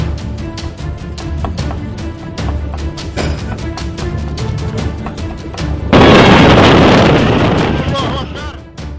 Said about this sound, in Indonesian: Beginilah detik-detik sisa angin puting beliung yang menerjang permukiman penduduk di Desa Teja Mulia